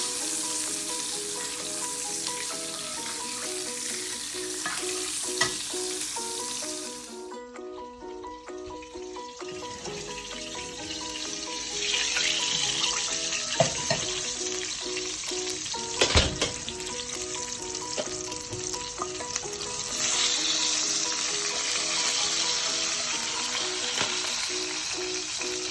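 Lamb sizzling steadily in a hot pan on a stovetop, a continuous close frying hiss with occasional pops, crackles and a brief clatter, no voices.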